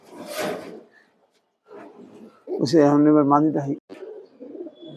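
A pigeon gives one clear, close coo lasting under two seconds, between short stretches of someone talking and some rustling.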